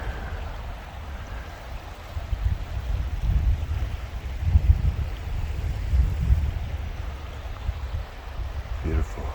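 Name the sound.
creek flowing at Slate Run Metro Park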